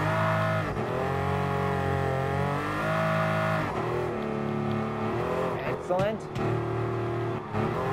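A Pagani Huayra mid-engine hypercar in Gran Turismo Sport, its engine holding a steady drone and swelling as throttle is eased on, with a commentator talking over it throughout.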